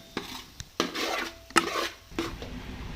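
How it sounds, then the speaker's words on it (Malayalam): A spoon stirs chilli masala in a pan for Kayamkulam crab curry, with a few scattered knocks and longer scraping rubs, close and fairly quiet, with no talking. "ഇതെല്ലാം കൂടെ നന്നായിട്ടൊന്ന് ഇളക്കി കൊടുക്കണം"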